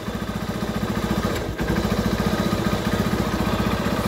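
A TMX Supremo 150 motorcycle engine, leaking and due for an overhaul, runs with a fast, even, throbbing pulse at close range, briefly faltering midway before settling back into its steady beat.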